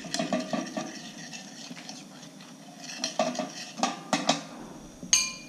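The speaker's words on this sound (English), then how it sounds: "Start working the sauce, ensuring that you baste the steak." Metal utensil scraping and clinking in a pan while basting a pepper steak in its cream pan sauce, a quick run of close, irregular scrapes and taps with no talk.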